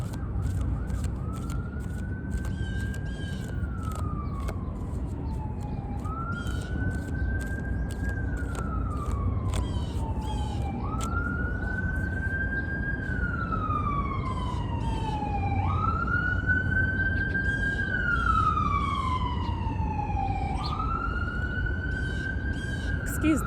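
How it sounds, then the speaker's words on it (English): Several emergency sirens wail and sweep up and down in repeated cycles, passing at moderate distance over steady street traffic noise for the whole stretch, loud and continuous. "Excuse the sirens, guys."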